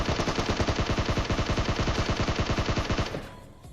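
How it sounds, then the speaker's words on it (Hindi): Rapid automatic gunfire in a first-person shooter game, a hacker firing through a wall: a loud, sustained burst of evenly spaced shots for about three seconds, then cutting off into a fading tail. "ये वही बंदा है जो भैया दीवार के आर पार गोलियां पेल रहा है मुझे"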